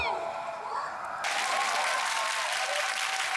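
A studio audience claps during a Korean TV comedy contest show, and a burst of applause swells in loudly after a second and continues steadily to the end.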